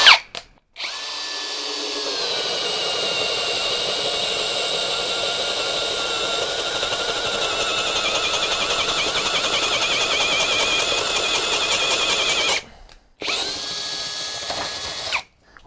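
A Teccpo brushless cordless hammer drill whirs loudly and steadily for about twelve seconds, its pitch sagging slightly as if straining under load, with a short stop and a brief restart near the end.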